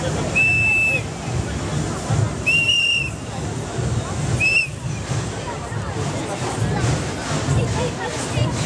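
Shrill whistles ring out at a large street demonstration in Italy, three short blasts at intervals over steady crowd babble and chatter.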